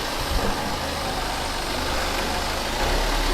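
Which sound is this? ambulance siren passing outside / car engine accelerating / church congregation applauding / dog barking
car engine accelerating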